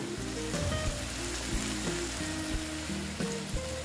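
Green chillies frying in a pan with a splash of water hitting the hot oil, giving a loud, steady hiss and sizzle with faint background hum throughout.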